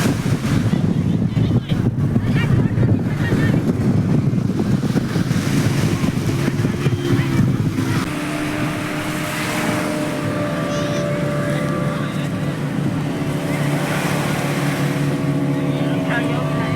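A high-speed motorboat ride off Shivrajpur beach near Dwarka: a steady engine roar under heavy wind buffeting and rushing water, with voices faintly mixed in.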